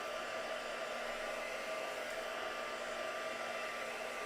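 Hair dryer blowing steadily to dry a wet mixed media art page, a constant close whooshing hum with no talk.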